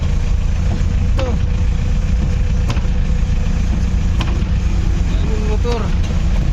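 Motorcycles and other vehicles creep through a flooded street in heavy typhoon rain and traffic, a steady dense rumble of engines and water noise with occasional horn-like tones, continuous and fairly loud throughout.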